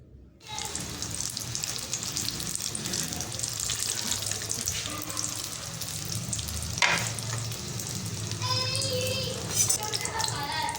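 Chicken vegetable rolls fry in oil with a steady, close sizzle and occasional bursts of crackle, running continuously over about ten seconds.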